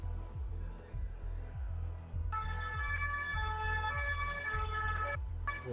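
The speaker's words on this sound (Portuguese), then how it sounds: "Parece ter muita sirene, né, mano?" A fire engine siren picked up faintly in the background, a repeating wailing tone under a steady mechanical ticking, with a bright high-pitched electronic tone sounding through part of it.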